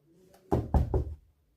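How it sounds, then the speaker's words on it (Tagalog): Three firm knocks on a door, close and distinct, spaced evenly after a faint lead-in, then quiet. "Oh, sino yun? Kumakatok."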